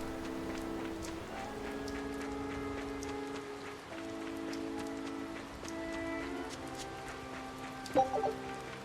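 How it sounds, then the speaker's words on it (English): Steady rain patters throughout in the video game Tales of Berseria, with soft tonal music lines humming beneath and a brief louder thump near the end. "It's still raining, by the way."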